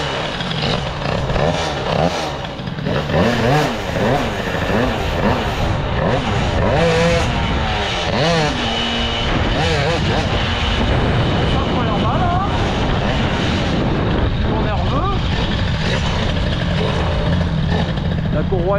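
A Peugeot 103 moped with a Stage6 air-cooled kit and a cold belt starts and revs hard, its engine note rising and falling in repeated sweeps, loud and close, with someone talking over it.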